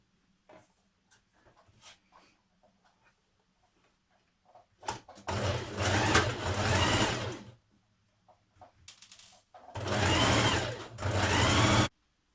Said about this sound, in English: Stitch those 2 points together.